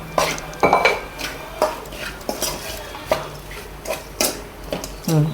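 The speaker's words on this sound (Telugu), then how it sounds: "ఇది ఆయిల్లో రెండు నిమిషాలు అలా ఫ్రై చేయాలి" Bitter gourd pieces coated in masala are fried in oil and stirred in a pan, giving repeated sharp scrapes and clanks of a utensil against metal in an uneven rhythm over a low background sizzle, close and fairly loud.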